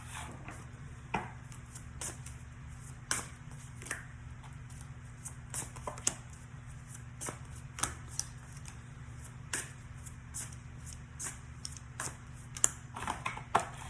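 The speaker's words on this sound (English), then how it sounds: "let's pull a few more cards and see what else we got" Oracle cards being shuffled and pulled, soft rapid riffling and slapping card sounds in irregular bursts, close and quiet over a low background hum.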